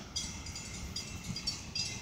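Tail end of a Florida East Coast freight train rolling past nearby, a steady rumble of wheels on rail with faint clanks, passing right beside the listener.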